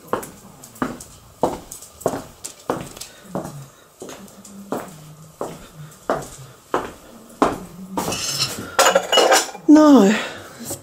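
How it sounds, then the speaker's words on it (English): Sharp clinks and knocks of a bowl, dishes and cutlery being handled and carried to a cottage kitchen, a steady series of close taps ending in a brief clattering rattle. "Now there's a bowl there which I must just bring out to the kitchen."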